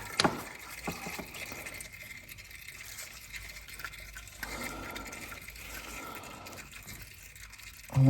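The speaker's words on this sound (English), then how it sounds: "I'm going to let the oil drain out and then come back to it." Engine oil trickles and gurgles quietly from a Honda TRX500 automatic ATV as it drains, a faint, continuous liquid splashing with a sharper knock at the start and a louder bump at the very end.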